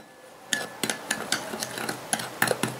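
A spoon stirs natural homemade skin-care ingredients, baking powder with sugar and lemon juice, in a bowl, giving a string of light clinks and taps at an uneven pace, close up with no voices.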